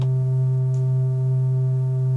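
Synthesizer oscillator holding a steady triangle-wave tone, a smooth, unchanging low pitch that sustains alone and evenly for the whole stretch, with no talking.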